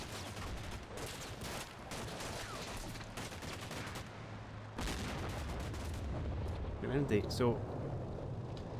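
Tank cannon fire in the Combat Mission: Cold War video game: a few loud, booming blasts and rumbling impacts, building toward the end, mixed with someone talking over the action.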